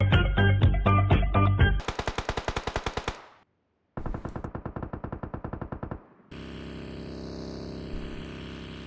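Gunfire in PUBG Mobile comes as rapid automatic bursts, a dense rattling volley followed by sharper fast strings of shots, a pause and another burst, then a steady mechanical drone. No one speaks.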